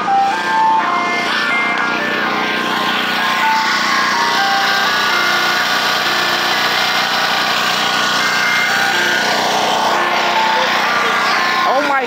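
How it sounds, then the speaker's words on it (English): A loud ice cream truck engine runs steadily with a rough, buzzing drone, its jingle faintly mixed in early on, with some talk over it. "that engine is so loud."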